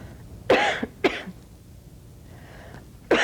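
A patient in an infection-control clinic scene coughs three times, sharp close bursts with quiet gaps between them.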